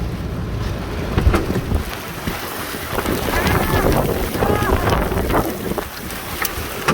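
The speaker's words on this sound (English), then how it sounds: "look at the size of the hail falling" Large hail from a tornado-warned supercell near Staunton, Virginia, with damaging winds: steady roaring wind buffets the microphone while sharp, scattered impacts crack through, and a voice speaks intermittently.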